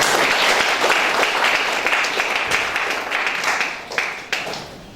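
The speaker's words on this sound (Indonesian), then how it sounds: "Kita berikan tepuk tangan." An audience applauds to welcome Reverend Dr. Mangapul Sagala to the front at a church talk on the Gospel and Batak custom, a steady, dense wash of many hands clapping close by, thinning slightly toward the end.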